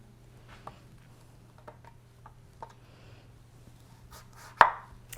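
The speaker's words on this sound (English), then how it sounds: "I'm gonna cut thin slices with it" A knife cuts a pepper into thin slices on a board for roasted Thanksgiving vegetables: soft, spaced taps under a low steady hum, ending in one louder sharp chop near the end.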